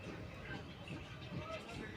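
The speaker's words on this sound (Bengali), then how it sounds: "তো তারপর ট্রেন ছেড়ে দিয়েছে" A moving passenger train rumbles with a low, steady clatter from inside the carriage, faint and continuous, with people talking softly under it.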